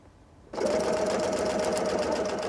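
A sewing machine stitching a seam on a drawstring backpack starts abruptly after a short quiet moment, then runs at a loud, steady, close whir with a fast even hum.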